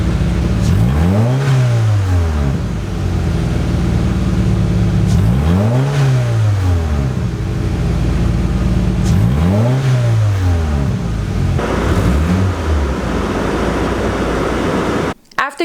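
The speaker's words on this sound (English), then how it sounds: "So let's go ahead and rev." A Scion FR-S engine is revved four times while bleeding air from its cooling system, each rev sweeping up and dropping back, over a steady idle.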